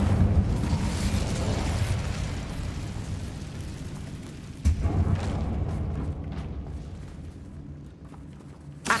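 Fire erupts in a sustained whooshing, roaring blast from the Incendio spell in Hogwarts Legacy, loud at first and fading over several seconds, with a sharp second burst midway and a final pop at the end.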